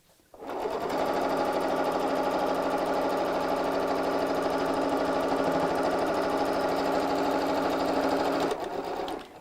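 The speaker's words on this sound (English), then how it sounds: "I'm just going to sew along the edge of the bosal" Close by, a sewing machine runs steadily along the edge of a tote bag, one continuous loud buzzing seam that starts abruptly and stops near the end.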